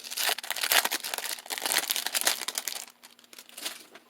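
Vintage craft card packaging being opened, with loud, continuous crinkling and crumpling of the wrapper close by, easing to softer rustles toward the end.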